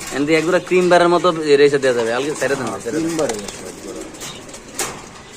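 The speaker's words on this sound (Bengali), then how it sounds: "ভয় পাইতেছে কবুতরগুলো দেখেন দর্শক কত সুন্দর মাশাল্লাহ" Racer pigeons in a loft coo softly and flap their wings beneath loud, continuous nearby talk, with a brief sharp flutter near the end.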